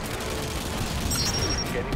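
Dense, continuous gunfire aimed at a helicopter in Call of Duty: Modern Warfare 2 Special Ops, a steady roar of overlapping shots and explosions filling the whole moment at close range.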